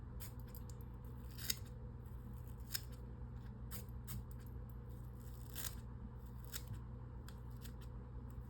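Curved scissors trimming the head of a large 8/0 monster rat fishing fly, a series of sharp, close snips spaced irregularly over a quiet background.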